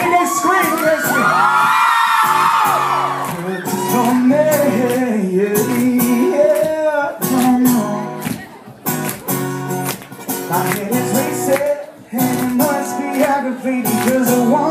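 A crowd at a live pop concert in a club screams and cheers loudly over the band's music, with high-pitched shrieks rising and falling as a singer keeps performing.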